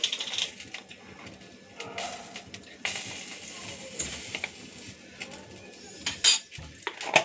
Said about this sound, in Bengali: তার জন্য আমি একটা মিক্সিং জারের মধ্যে নিয়ে নিচ্ছি 1 চামচ রাঁধুনি